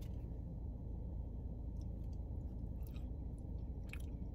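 Soft, close chewing of Chick-fil-A fries, with faint wet crunches and squishes under a steady background hiss and no talking.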